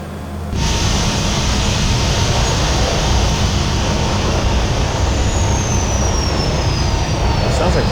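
An ERJ175 regional airliner's jet engine spooling up in a flight simulator game, a sudden onset into a loud steady roar with a slowly rising whine, continuous and close.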